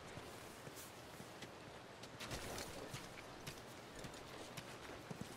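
Horse hooves clip-clop at a steady walking pace in The Last of Us Part II, soft thuds over a rushing ambient bed, fairly quiet and without talk.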